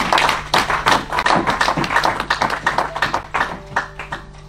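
A church congregation claps and cheers in praise of Jesus, a dense run of overlapping hand claps and raised voices that stays loud and steady throughout.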